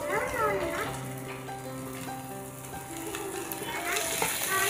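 Potatoes and fenugreek leaves fry in a pan with a steady soft sizzle, while a voice talks over the cooking throughout.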